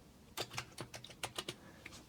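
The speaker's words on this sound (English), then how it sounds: "So in the search address box I'm going to be typing in my" A UK postcode is typed on a computer keyboard during a Home Assistant setup, a short burst of about ten crisp, irregular key taps, close but quiet, with no one talking.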